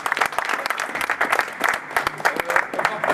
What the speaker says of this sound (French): on peut applaudir nos invités